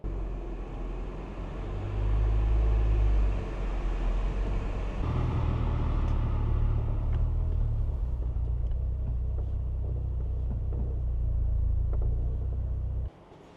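Peugeot 205 fitted with a TCT turbo engine in a roughly 700 kg car, running with a steady deep low rumble throughout, briefly swelling louder early on, then holding a constant drone before cutting off near the end.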